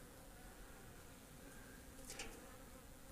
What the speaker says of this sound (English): real popular with the bees right now